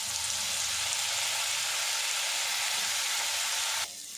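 Fish pieces sizzle steadily in hot mustard oil, a dense, even frying hiss that holds close and loud before cutting off abruptly near the end.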